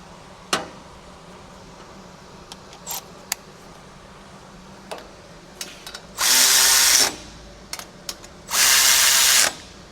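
A power tool runs down bolts on a rear remote hydraulics bracket of a Bad Boy 40 Series tractor: two loud, steady bursts of about a second each, preceded by scattered clicks and taps of handling.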